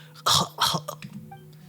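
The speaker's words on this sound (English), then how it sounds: "Baizhu has a weak cough." Baizhu from the video game Genshin Impact gives two soft, weak coughs followed by a few fainter throat sounds, close and alone with no talking.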